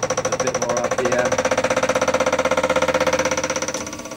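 Milling machine cutter running under power feed in a workshop, giving a steady, fast, rhythmic mechanical chatter with a constant whirring hum, moderately loud and close.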